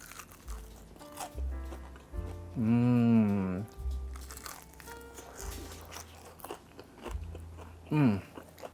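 Several loud crunching bites into crispy air-fried chicken wings, with chewing and crackling in between, close to the microphone.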